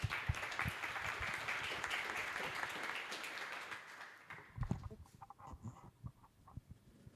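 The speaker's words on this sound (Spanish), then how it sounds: "Un aplauso, Sebastián." An audience claps loudly at first, then the applause thins out into scattered claps and fades toward the end.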